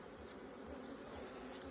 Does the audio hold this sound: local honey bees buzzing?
yes